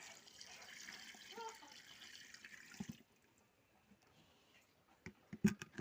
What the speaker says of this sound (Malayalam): നമുക്ക് ഇതിനകത്തേക്ക് ഒഴിച്ചു കൊടുക്കാം കേട്ടോ.